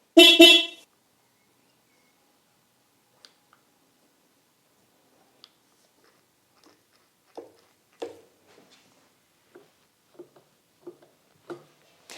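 A Harley Sportster motorcycle's horn gives one short, loud, close toot during a pre-ride check, followed by near silence with faint clicks and small handling noises.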